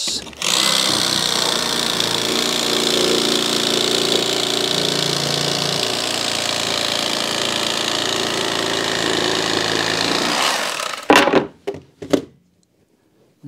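A power tool cuts through rock wool insulation board in a steady, loud, droning run lasting about ten seconds. It then cuts out, followed by a few quick knocks as the board is handled, then quiet.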